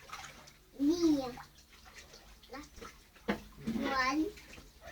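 A child splashes in bath water close by, with running and sloshing water, and a young voice talks over it.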